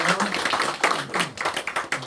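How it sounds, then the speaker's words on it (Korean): Congregation applauding in a church during a Sunday morning worship service, giving praise to God; a short burst of dense clapping with voices mixed in. "우리 하나님께 영광의 박수 올려드리겠습니다"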